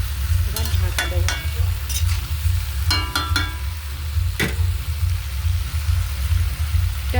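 Meat cooks in its own released juices in a pan, a steady close bubbling sizzle with occasional clinks and scrapes of stirring.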